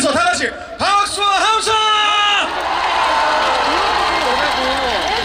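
At an outdoor celebration concert on a cold day for the opening of Yeoncheon's new rail line, a crowd breaks into applause and cheering after a voice calls out, the clapping and shouts continuing under speech.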